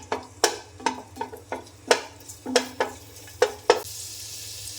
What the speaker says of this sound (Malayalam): ഓയിൽ ഒഴിക്കാം അതിലേക്ക് ഒരു സ്വല്പം ഒരു രണ്ട് മൂന്നല്ലി വെളുത്തുള്ളി ഒന്ന് മുപ്പിച്ചെടുക്കാം